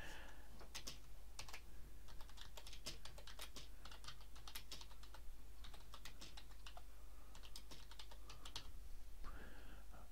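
Computer keyboard typing as text goes into an article editor: quick, irregular clusters of light key clicks, close and steady throughout, with brief pauses between bursts and no talking.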